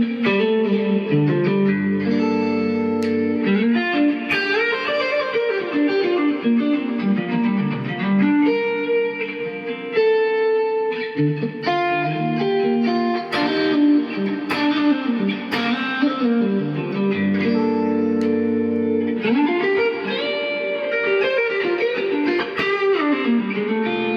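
Electric guitar through a Marshall master-volume amp set for a driven, overdriven tone at modest volume, playing chords and melodic runs loudly and continuously with no talking.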